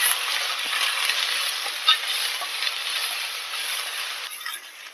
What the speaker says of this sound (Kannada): ನೋಡಿ, ಈಗ ಅರ್ಧ ಹುರಿದಾಗಿದೆ ಈರುಳ್ಳಿನ